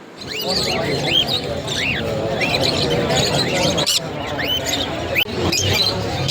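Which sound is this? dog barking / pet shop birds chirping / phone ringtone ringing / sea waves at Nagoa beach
pet shop birds chirping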